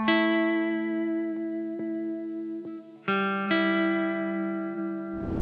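A dark ambient guitar sample from Splice rings out in sustained, effect-laden chords with chorus and reverb, a few plucked changes, then a brighter swell near the end, loud and alone.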